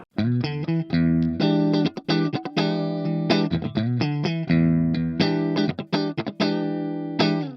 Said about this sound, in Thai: แต่ถ้าเกิดว่ามีแต่ตัว IR บล็อกอย่างเดียวไม่มีแอมเสียงมันจะเป็นแบบนี้ครับ